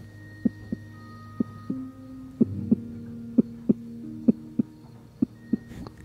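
A heartbeat sound in an ASMR role play thumps softly in paired, evenly spaced low beats over a faint steady hum, quiet and close with no talk.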